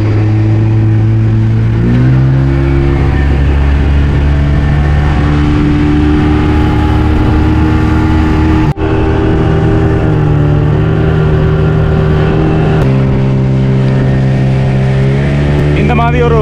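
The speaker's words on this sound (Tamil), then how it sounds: "படகு ரெடி ஆகிட்டு போய்கொண்டிருக்கிறோம் அழகான ஆற்றங்கரையால்." A motorboat carrying passengers on a river trip drones loudly and steadily throughout, its engine pitch shifting a few times as it runs along the riverbank.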